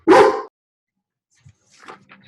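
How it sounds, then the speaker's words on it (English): A dog gives one loud, close bark, followed by silence and then faint, softer yips and whimpers in the background during an online meeting. "my dog is barking"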